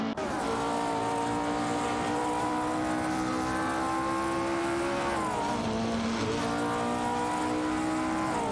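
Race cars jockey for position in a racing video game, engines droning and revving at high pitch in a continuous close roar, with one gear-shift dip partway through and no talking.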